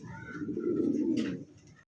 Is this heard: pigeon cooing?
yes